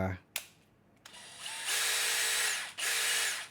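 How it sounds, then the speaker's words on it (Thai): A DeWalt DCD706 12V compact cordless impact drill whirs in bursts, first short blips, then two sustained high-pitched runs with a brief pause between, loud and close. "เขาก็จะเจาะอะไรให้ดูก็ใช้ตัวนี้นะครับ สปีดก็ปรับช้าเร็วตามไกลอะไรเลย"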